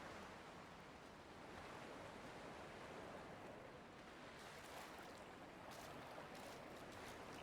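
Sea waves wash against the coast in the video game Dear Esther, a soft, distant, continuous surf rumble and hiss with gentle swells and no voices.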